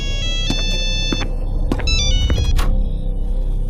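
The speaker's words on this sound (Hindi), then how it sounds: "तभी आनंद को एक फोन की रिंग सुनाई देती है जो उसके बाथरूम से आ रही है।" A telephone ringtone chirps in short repeated tonal bursts over a steady low rumble, the phone left inside a bathroom in a haunted house, ringing insistently with no voices.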